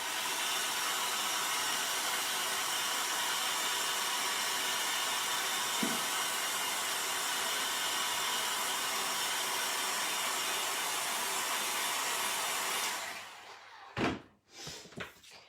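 A hair dryer runs steadily at close range, drying a freshly chalked craft piece, holding a constant airy roar for about thirteen seconds before switching off, followed by a few handling knocks and bumps.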